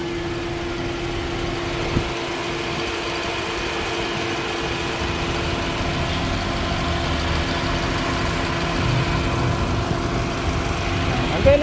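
A Nissan Sentra GA16 engine idles steadily after a top overhaul, a constant close hum, with someone talking over it.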